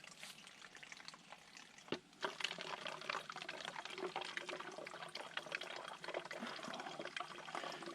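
Water pours steadily into a 2 liter plastic bottle at a Florida campsite, a continuous splashing gush that grows fuller after a brief knock partway through, with no talking.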